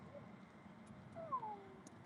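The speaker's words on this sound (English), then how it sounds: "We have a local little kitty cat." A small outdoor street cat with a limp gives one faint, short meow at a distance, rising and falling briefly over quiet background noise.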